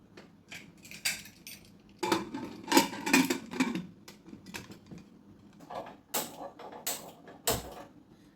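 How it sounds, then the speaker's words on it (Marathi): A vessel holding raw mangoes is set inside a pressure cooker and the lid is closed, giving a run of close, quiet metallic clanks, clinks and scrapes with short pauses between them. "भांडं ठेवायचं आहे आणि याच्यात कैरी ठेवायची"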